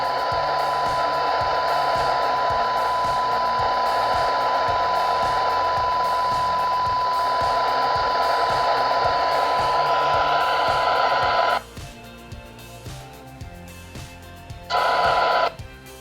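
Loud, steady hiss of radio static with a thin whining tone from an ICOM ID-51 PLUS as its squelch opens at -132 dBm. It cuts off abruptly, then a brief burst of static returns before quieting again.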